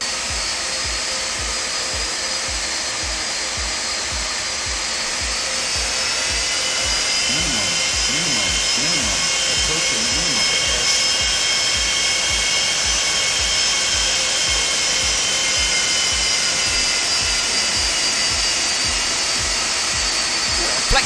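A Felis Boeing 747-200 taxies fast at St Maarten in X-Plane 12, its jet engines giving a loud, steady whine and hiss over a regular series of low thumps.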